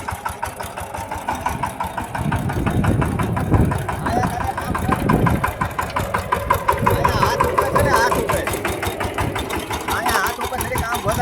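A power tiller's engine running steadily while the machine is turned in a field, a loud, close, rapid mechanical chugging that holds throughout, with someone talking over it.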